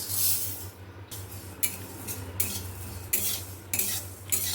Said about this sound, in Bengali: কড়াইয়ে দিয়ে দিব, সব ভেজে নেব।